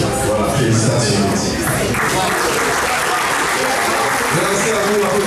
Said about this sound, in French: Merci à vous, applaudissez-vous.